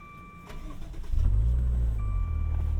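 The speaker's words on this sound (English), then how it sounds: "Fire this thing up again." 2015 Maserati Ghibli S Q4 twin-turbo V6 starting up from inside the driver's seat: a brief starter whir, then the engine catches with a deep rising flare before settling into a steady, throaty idle.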